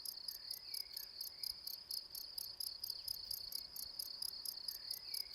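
Insects chirp in a wetland, a dense high-pitched cricket trill pulsing in a fast, regular rhythm, steady and fairly faint against a quiet background.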